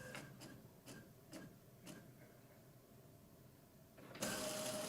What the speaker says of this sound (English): visitors can use the printer to print on their own banknotes